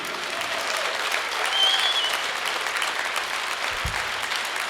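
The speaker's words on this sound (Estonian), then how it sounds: "Teeme talle ühe suure aplausi." A concert audience at the Tartu music days symphonic show gives continuous, full applause, a loud and even crackle of many hands with a brief low thump near the end.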